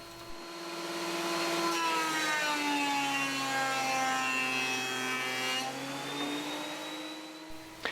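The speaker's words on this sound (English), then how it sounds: "Next, I'll plane the Philippine mahogany until it has a thickness of about 1 5/8 inches thick." A thickness planer's loud, steady roar with a high whine runs for several seconds, its pitch dipping slightly as Philippine mahogany feeds through, then cuts off.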